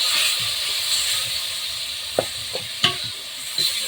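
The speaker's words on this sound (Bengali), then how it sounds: "সামান্য একটু জল দিয়ে দেবো তাতে মশলা কষিয়ে দেবো" A spatula stirs and scrapes turmeric spice paste loosened with a little water in a hot pan for a poppy-seed chicken dish, giving a soft hiss with several sharp scraping knocks near the end.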